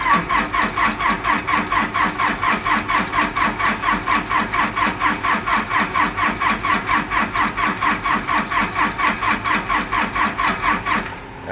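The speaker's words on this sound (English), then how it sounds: "Cold start on the old Deere air compressor." An old Deere engine driving an air compressor runs steadily after a cold start, with a loud, rhythmic chugging pulse that holds even throughout before cutting off abruptly at the very end.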